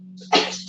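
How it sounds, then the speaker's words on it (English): A single sharp sneeze bursts out close to the mic, with a steady low hum running underneath. "Hold on, you guys. I gotta sneeze."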